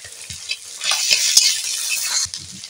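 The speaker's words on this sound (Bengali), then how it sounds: "দিয়ে দেব রসুন বাটা" Garlic paste hitting hot oil and sizzling loudly, with a spoon stirring and scraping the pan; the hiss swells in the middle and fades.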